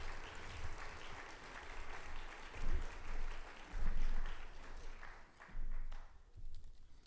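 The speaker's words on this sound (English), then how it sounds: "another round of applause for Alistair." A fairly faint, continuous patter of clapping from a seated audience at a green tourism conference awards ceremony, swelling in a few louder waves before it fades, with a few quiet voices under it.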